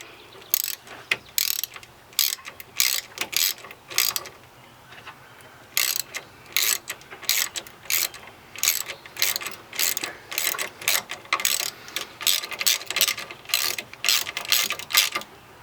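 Ratchet tightening a Hallman Pro boost controller fitting, quick clicking strokes repeated in short bursts with brief pauses, close and crisp in a quiet space.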